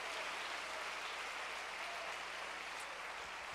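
Church congregation clapping steadily together during an evening worship service, a dense, even wash of applause from a large room, fairly quiet and continuous without voices.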